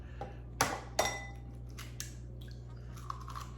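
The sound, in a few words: eggs being cracked into a bowl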